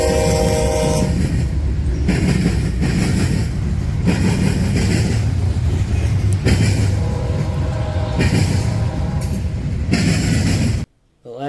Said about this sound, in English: The next train was CSX I-172 heading east to North Baltimore, with 3 BNSF paint schemes lined up from newest to oldest